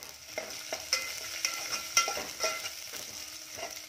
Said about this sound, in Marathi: लसूण देखील थोडा परतून घ्यायचा आहे